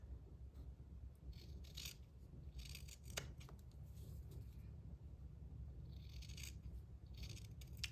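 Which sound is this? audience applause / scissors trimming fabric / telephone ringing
scissors trimming fabric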